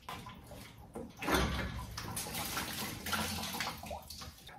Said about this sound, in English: The water's draining right now.